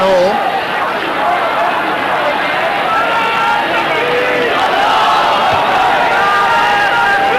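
Large stadium crowd at the 1994 Pakistan versus Netherlands hockey World Cup final roars and cheers continuously, a loud dense wash of voices with a commentator talking over it.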